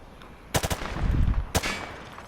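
Video game gunfire on a shooting range: two sharp bursts of rapid shots, the first a quick cluster of cracks followed by a rumbling roll, the second a short burst, loud against a quiet background.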